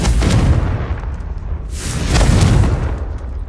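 Two heavy, booming Confringo fire-spell explosions in Hogwarts Legacy, loud and close, each a broad crackling blast that swells and fades in turn.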